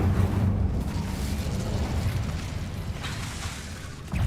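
Incendio fire spell cast in the video game Hogwarts Legacy, a dense roaring burst of fiery noise that fills the whole moment, loud and sustained with a fresh surge near the end.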